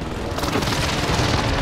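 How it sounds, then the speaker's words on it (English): A precision airstrike going off in a video game, a loud, dense rumbling blast of overlapping booms that fills the whole moment without letting up. "Enemy precision airstrike."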